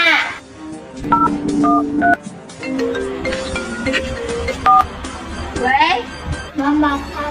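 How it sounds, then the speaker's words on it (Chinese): A phone number is dialed on a telephone keypad: a series of short, distinct touch-tone beeps in irregular rhythm, heard close up with voices talking in the background. "赶紧给小姨打电话。"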